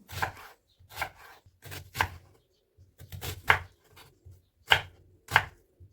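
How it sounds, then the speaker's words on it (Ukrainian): A knife finely chops an onion on a board in a slow, even rhythm of about eight crisp strokes with short pauses between, close up and with no voices. "Спочатку беру цибульку і дрібненько її ріжу."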